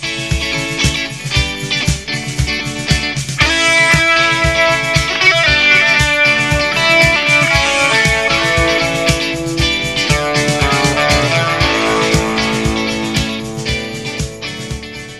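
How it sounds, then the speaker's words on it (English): Distorted electric rhythm guitar chugs steadily while a lead guitar plays a rock riff over it, a loud, dense, continuous passage without speech. "So you couple that with the rhythm guitar, and it sounds like this."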